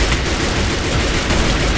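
Gunfire in Minecraft blares as a loud, dense, continuous burst of rapid shots with no pauses, filling the whole moment.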